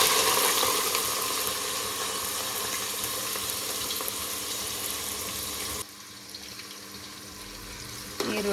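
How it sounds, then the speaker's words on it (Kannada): Onions frying for home-style biryani, a steady loud hiss of oil across the pan that drops suddenly quieter near the end, then swells again. "ಸೊ ನಾನೀಗ ಈರುಳ್ಳಿನ ಚೆನ್ನಾಗಿ ಫ್ರೈ ಮಾಡ್ತಾ ಇದ್ದೀನಿ"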